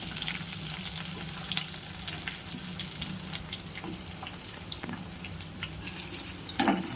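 Onions, curry leaves and green chillies sizzle in a pan for a tomato and drumstick curry, giving a steady crackling fry. Occasional scrapes and clinks come from stirring, and no voices are heard.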